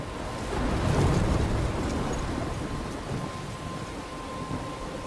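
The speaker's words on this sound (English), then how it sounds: "I'm trapped in a storm?" Thunder rumbles loud and close over steady pouring rain in the Life is Strange video game storm, the boom swelling early then easing into a continuous wash of rainfall.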